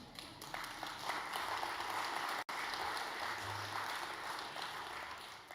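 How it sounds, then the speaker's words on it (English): An audience at a Lowy Institute speaking engagement for a visiting president applauds steadily as a dense, continuous wash of clapping that holds for several seconds, broken once by a brief dropout. "you do deserve a round of applause for that"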